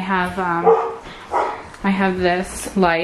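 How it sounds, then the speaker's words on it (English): Dogs barking downstairs in a house, barks and yips heard between and under a woman's nearby speech. "you can probably hear the dogs downstairs."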